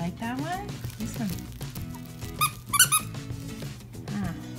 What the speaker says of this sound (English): Squeaks a little bit.